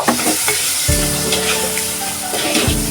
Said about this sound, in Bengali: এটা দিয়ে আমি একটু আবারও কষিয়ে নিব